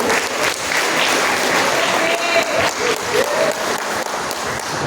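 Church congregation applauding in praise, a dense sustained roar of many clapping hands filling the room, with faint voices and a brief tonal sound woven through.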